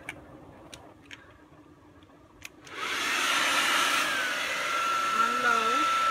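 Hair dryer on a cool, low setting blowing over a freshly chalked Chalk Couture transfer: after a few quiet taps, a steady loud airy whoosh starts and holds, close to the mic.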